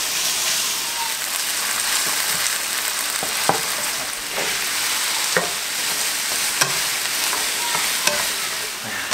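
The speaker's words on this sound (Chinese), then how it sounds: "翻炒" Meat stir-fried in a wok over a weak home stove: a steady close sizzle with intermittent scraping clicks from the spatula tossing the pieces, with no talking.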